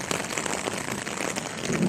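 Steady rain patters down, a dense continuous hiss of drops with no voices, holding at an even level throughout.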